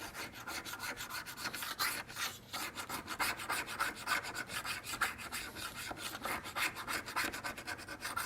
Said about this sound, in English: I'm taking my knife, my trusty little scraping knife that I use here, and I'm scraping off the extra remains of the glue and the fletchings